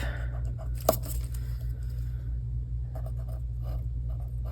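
A pen drawing a line on paper gives a faint, brief scratching stroke near the start, followed by lighter scratches, over a steady low background hum.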